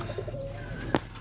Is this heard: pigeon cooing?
yes